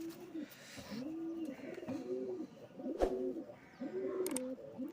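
In a loft, a caught black kaldom pigeon repeats soft, rolling coos about five times in a regular rhythm, close but low in level, with a sharp click partway through.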